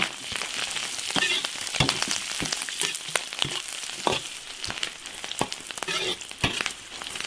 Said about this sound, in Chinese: 先把腊肉炒一下， 炒出猪油，下入葱姜、